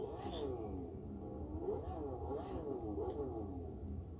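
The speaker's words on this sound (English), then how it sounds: "the next vehicle, as I said, is the Lamborghini Aventador" Lamborghini Aventador engine in the video game The Crew 2, a faint low rumble with rising and falling pitch sweeps from gentle revving, heard quietly at a distance.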